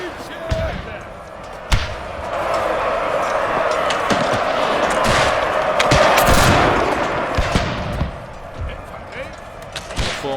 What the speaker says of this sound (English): As they actually reach the unit, troops further in the back start firing.